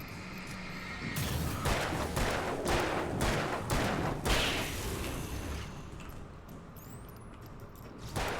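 Gunfire in the Alan Wake video game: a rapid burst of about eight loud shots over a few seconds, then a quieter stretch with a single later shot.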